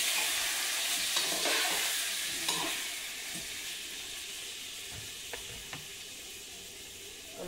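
Beef caldereta sizzles and hisses steadily in a pan, with a few soft stirring scrapes now and then, and no talking.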